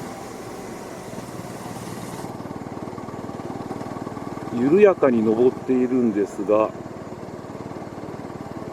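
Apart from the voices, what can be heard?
Honda CL250 motorcycle engine running in sixth gear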